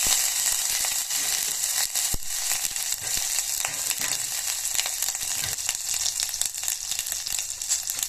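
Ginger-chili paste fries in hot oil in a pan, a loud, steady sizzle with crackling spits that continues without a break, along with a few clicks from stirring.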